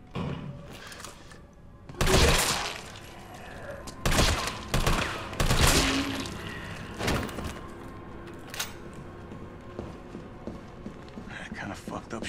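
Gunfire rings out in a Resident Evil 3 Remake cutscene, a few loud sharp shots and bursts spread irregularly over a tense ambient background, with voices speaking in between.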